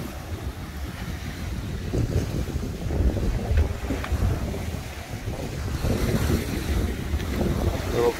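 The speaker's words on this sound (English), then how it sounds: "just listening to the sea sounds really nice" Sea waves at a beach on Bohol, a rolling wash of surf swelling and receding under heavy wind buffeting the microphone, steady and fairly loud without clear talk.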